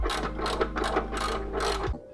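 A socket ratchet turns a bolt in a garage, giving a fast, continuous clicking pawl sound for about two seconds, close and fairly quiet, ending abruptly.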